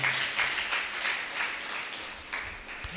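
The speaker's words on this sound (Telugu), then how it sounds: "చప్పట్లు కొట్టి దేవుని నామాన్ని కనపరుద్దాం." Church congregation clapping during a Sunday morning service, a steady broadband patter of many hands that holds for a few seconds at moderate level without speech.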